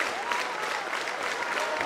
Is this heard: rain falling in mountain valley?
no